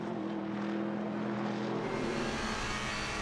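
Onboard engine of the number 10 Audi race car during the Nürburgring 24-hour race, a loud, steady high-revving drone with rising pitch and heavy rushing wind noise, no voices.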